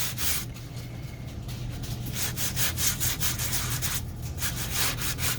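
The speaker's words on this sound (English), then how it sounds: "you get a very different look if you are sanding the back" Repeated scratchy strokes of sandpaper rubbing over card, a rhythmic, close-up rasping with no voices.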